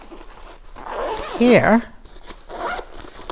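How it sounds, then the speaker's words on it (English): An interior zipper on a Nomad Lane Bento Bag gives one short, close, raspy pull under a person's talk. "and an interior zipper"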